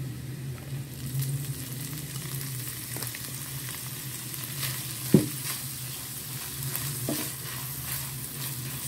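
Chicken frying with garlic in a pan, making a steady close sizzle with a faint low hum underneath and one sharp clack of the utensil midway.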